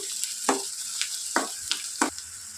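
Onion and cumin masala for egg curry fries in a pan, giving a steady soft sizzle broken by several sharp scrapes of a spatula stirring at irregular intervals, close and without talk.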